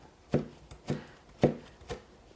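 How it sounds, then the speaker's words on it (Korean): A knife chops young cabbage on a cutting board with four crisp, close strokes spaced about half a second apart, with no talking. "먹기 좋을 정도로 일단은 썰게요"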